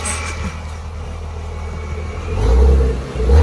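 Car engine fitted with a 475 hp Ripp supercharger idling close by, then rising into a deep, loud rev near the end with a heavy low rumble.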